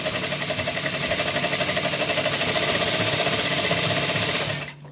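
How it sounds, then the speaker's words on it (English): A sewing machine fitted with a gather foot runs over light crinoline fabric in a loud, fast, steady mechanical chatter that stops abruptly at the end. "This is how easy a gather foot works."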